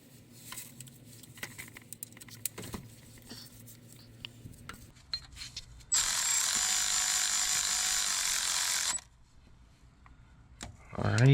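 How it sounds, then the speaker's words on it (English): A ratchet drives in the final bolt on the oil filter housing of a 2007-2012 first-generation Acura RDX with the K23A1 engine, giving a loud, steady buzzing run of about three seconds midway, with light clinks and handling noises before and after. "This is the last bolt going in."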